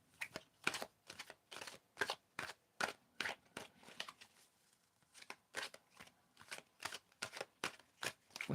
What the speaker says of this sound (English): You can tell me when to stop shuffling.